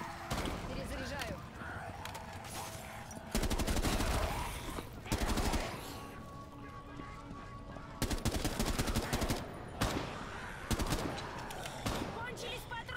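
Rapid bursts of gunfire in Rainbow Six Siege's zombie-clearing Outbreak mode, several loud automatic volleys separated by short pauses, with a player's voice talking over the action.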